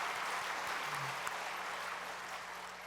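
Applause from a church congregation during a Sunday afternoon service, a soft, steady wash of many hands clapping that holds at an even level throughout, sounding somewhat distant and diffuse.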